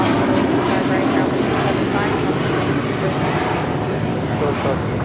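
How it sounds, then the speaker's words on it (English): Delta Airbus A330neo widebody jet departing LAX on a long-haul flight, a loud, steady broadband engine roar that holds level throughout without fading. "This is Delta Airlines Flight 7 Heavy departing to Tokyo Haneda on the A330neo."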